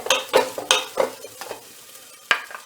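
Meat browning in a pan for a haybox stew gives a faint sizzle broken by five or six sharp scraping stirs, close by, with no talk.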